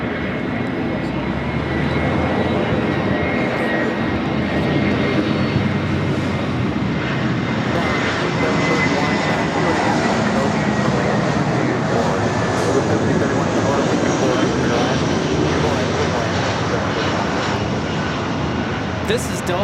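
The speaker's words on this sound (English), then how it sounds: "This is Delta Airlines 1715 coming in from San Francisco on the A321." A Delta Airlines Airbus A321 jet arriving at Los Angeles International Airport gives a steady, loud, continuous engine roar and rush that holds without break for the whole stretch.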